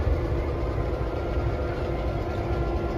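Diesel locomotive No. 710, built in 1950 as a GP7 and rebuilt as a GP9, runs at the Tennessee Valley Railroad Museum with a steady, loud, close low-pitched engine rumble and no pauses.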